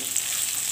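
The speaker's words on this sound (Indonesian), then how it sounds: "Kita ikutkan di dalam mengsangrai di sini supaya aroma udangnya juga keluar." Shrimp dry-roasting in a pan for seblak gives a soft, steady sizzling hiss, close and constant for a brief moment.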